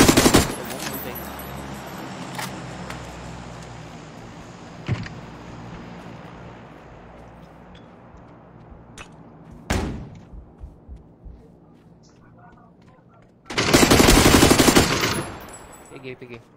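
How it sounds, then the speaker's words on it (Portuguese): Bursts of gunfire in an online shooter video game, a sharp loud shot near the start, scattered single shots, then a dense rapid volley of automatic fire toward the end, with quieter game ambience between. "eu tomei tiro da esquerda, Chigão"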